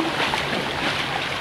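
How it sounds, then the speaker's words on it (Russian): Sea surf washes steadily close by in the evening, a continuous soft rush of breaking water with no voices over it. "Прибой."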